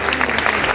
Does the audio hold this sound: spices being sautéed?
no